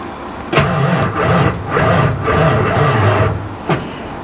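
A 2000 Ford F350 Powerstroke diesel truck that has sat too long cranks over with a low, labored, rhythmic churning in several long pulses, loud and close, without catching.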